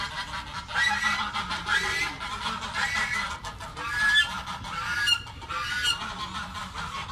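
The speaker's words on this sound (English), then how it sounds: "these are the Pekin ducks that we have on the farm" A flock of Pekin ducks quacking and honking repeatedly, several birds calling over one another at close range.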